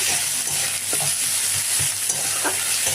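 Tomato with salt sautéing in a pan, a loud continuous sizzle with rhythmic spatula strokes scraping the pan close up, no voices.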